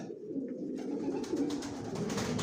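Low, throaty coos from Johnson-line racing pigeon chicks rumble continuously, close and soft, with light scratching and shuffling noises over them.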